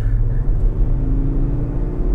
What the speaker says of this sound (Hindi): आप सुन सकते हो कितना रोर कर रही है गाड़ी।